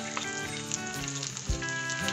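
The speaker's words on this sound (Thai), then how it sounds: "ผัดหอมใหญ่ให้หอมนะผัดหอมใหญ่ไป" Onions stir-fry in a pan with a steady close sizzle, with occasional scrapes and clinks of stirring, and no talking.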